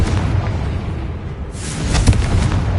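A Confringo blasting spell from Hogwarts Legacy erupts as a deep rumbling boom, a broad burst that swells midway and holds a heavy low roar to the end, with no talk over it.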